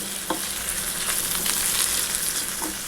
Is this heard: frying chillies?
yes